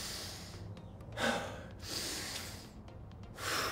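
Deep breaths during a HIIT workout cool-down, a few audible inhales and exhales in a slow rhythm, close and fairly soft with no speech.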